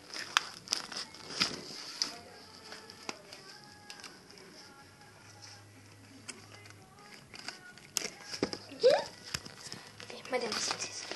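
A cardboard package being opened by hand, with bursts of paper crinkling, tearing and rustling close by, irregular and scattered, while a person talks quietly in between.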